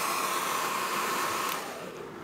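A GHD hair dryer drawing about 1,800 to 2,100 watts blows with a steady, breathy roar, then eases off slightly near the end.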